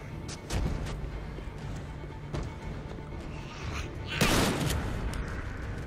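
Shotgun blasts in The Walking Dead: Survival Instinct, a few loud booming shots spaced apart, the biggest one near the end, over game noise and a muffled voice.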